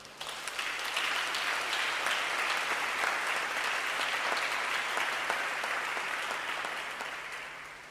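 A church congregation applauds together, a dense, sustained clapping that swells quickly, holds steady for several seconds and then tapers off, heard from within the room.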